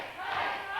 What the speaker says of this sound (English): You can hear the crowd screaming for Ace Rockwell.